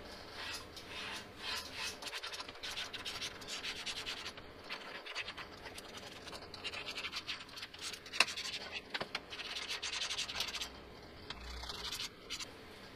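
A pen scratching and rubbing across a belly pan frame while marking it for drilling on a Mini Model S build, a steady close scratchy drawing sound with brief pauses and no talk.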